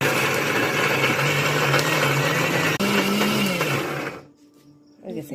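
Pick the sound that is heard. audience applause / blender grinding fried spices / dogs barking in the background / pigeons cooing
blender grinding fried spices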